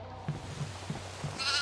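A goat in the horror video game Devour bleats in four short, evenly spaced calls, close and moderately loud, over a low droning game ambience.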